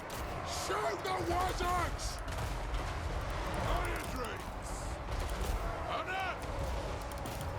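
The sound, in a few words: crossbow volleys in battle, from a video game (Total War: Warhammer)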